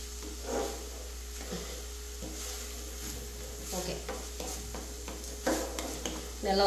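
Banana flower thoran being stirred in a pan, a soft scraping and rubbing of spoon against pan with faint sizzle, steady and close, a few louder scrapes near the end.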